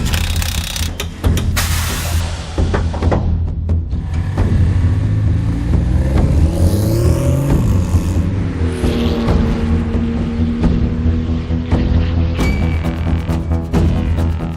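A Porsche 911 GT2 RS Clubsport race car on slick tyres at Bathurst, its engine loud and close, revving and changing pitch through gear shifts with mechanical whine, continuous throughout.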